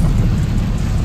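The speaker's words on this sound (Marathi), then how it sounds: "बघा अजून पाऊस चालू आहे" Steady rain drums on a moving pickup truck on the highway near Satara, a dense, continuous wash of low rumble and hiss with no talking.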